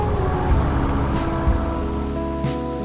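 Steady rain pouring down during a motorbike ride on a road in Kerala, a dense continuous hiss of drops hitting surfaces, loud and close, with a faint low engine hum underneath and no voices.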